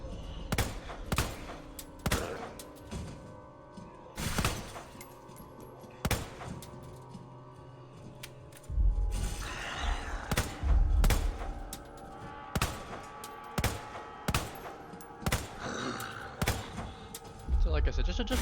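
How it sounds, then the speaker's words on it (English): Rapid pistol shots from an infinite-ammo handgun in Resident Evil 2, sharp repeated cracks in irregular bursts over game ambience, with a voice talking between some shots. "My infinite ammo pistol"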